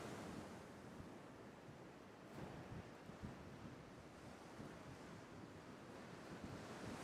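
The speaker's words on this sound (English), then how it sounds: "through the sounds of the waves" Ocean waves roll and wash steadily ashore in a continuous broadband surf roar, with gusts of wind buffeting the microphone and no voices.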